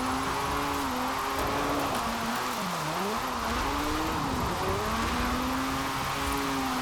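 A JDM car's engine revs hard in Forza Horizon 4, a loud steady buzzing drone that dips and climbs with throttle and shifts over several seconds, with no voices.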